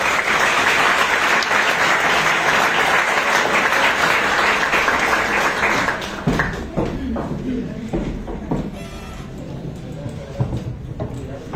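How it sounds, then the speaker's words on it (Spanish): An audience gives a warm round of applause welcoming a speaker to a talk on autism and the brain, thick sustained clapping that fades after about six seconds into scattered claps, shuffling and a voice speaking. "les pedimos que le demos una cordial bienvenida y lo recibamos con un fuerte aplauso"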